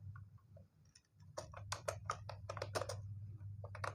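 Python code being typed on a computer keyboard, a close run of crisp key clicks that starts sparse and becomes a quick burst of taps over a low steady hum, with no voices.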